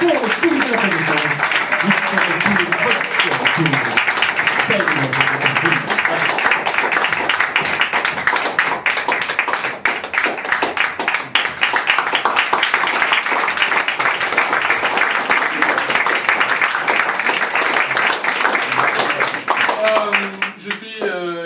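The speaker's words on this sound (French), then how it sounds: "Et on applaudit bien fort nos joueurs pour les coulisses de la présentation." A theatre audience claps loudly and steadily for the players taking the stage at an improv theatresports show, a dense continuous applause lasting throughout, with a few voices faintly audible beneath.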